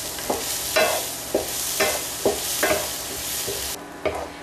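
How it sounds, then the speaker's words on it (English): Cashews and peppers stir-frying in a hot pan give a steady close sizzle, punctuated by a spatula scraping and stirring in regular strokes, with small pops scattered through. "I hear the cashews starting to pop, which means we're getting close to being done."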